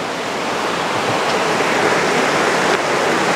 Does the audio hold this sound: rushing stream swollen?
yes